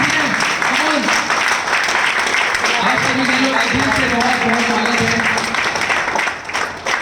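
Distributors at a company business meeting applaud loudly to welcome newcomers, a continuous dense roar of clapping while someone speaks over it through a microphone.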